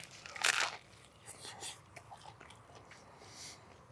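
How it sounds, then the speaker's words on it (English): A bite into a crunchy toasted panuozzo pizza sandwich gives one sharp, close crackling crunch, then quieter chewing and soft crumbly sounds. "That bread is so crunchy on the outside and has that perfect pizza chew to it."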